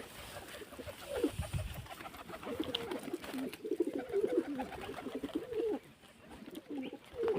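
Pigeons coo repeatedly at close range, soft low warbling calls recurring throughout with light background rustle and no talk.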